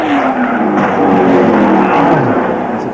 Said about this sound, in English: Marcus Marshall crashed out coming down.